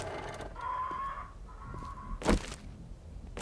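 A bird in the video game 7 Days to Die gives a drawn-out, clucking call over low ambient noise, followed by a sharp, brief thump.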